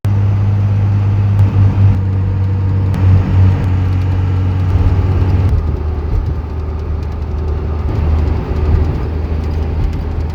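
Steady low rumble of a truck engine while driving, loud and continuous throughout with road noise and no talking.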